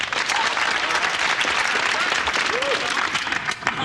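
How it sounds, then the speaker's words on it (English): An audience breaks into loud, sustained applause, a dense crowd of clapping hands filling the room evenly from start to finish. "that clapping is the sound of people liking you."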